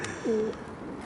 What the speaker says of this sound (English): Here's the other pigeons coming in.